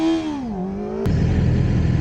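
A racing motorcycle at the start of a hill climb race holds a high revving whine that dips in pitch, then launches with a loud, rough, broadband roar as it accelerates away.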